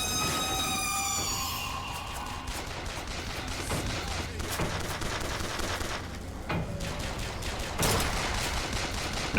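Rapid gunfire and bursts of automatic fire in BioShock Infinite during a gunship fight on a barge, dense and continuous with sharp louder shots, after a brief tonal musical sting at the start.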